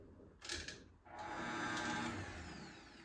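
An electric mixer beats pumpkin pie filling in a bowl: a brief whirring burst, a short pause, then a longer steady motor hum that fades slightly toward the end.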